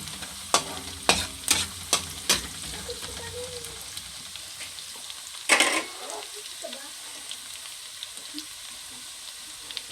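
Garlic and onion sautéing in a pan for chicken pastil, with a soft background sizzle, several sharp utensil clacks early on and one louder scrape midway, close by with no talking.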